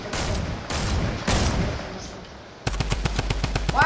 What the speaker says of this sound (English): Why did I get the drum gun? Like, these bullets go everywhere.